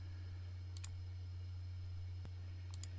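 A few sharp computer mouse clicks come in pairs while someone signs into an online survey, close and quiet over a steady low electrical hum.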